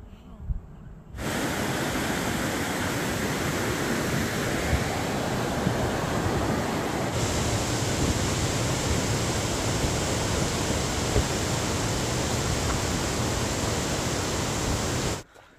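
A small plane takes off on an airstrip near Killington, Vermont, giving a steady broadband engine and propeller roar that holds at a constant level for about fourteen seconds before cutting off at the end.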